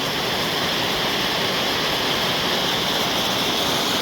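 Water rushes steadily and loudly through a former dam site, its gates removed, near an abandoned US Air Force radar station in Canada, a constant close roar with no voices.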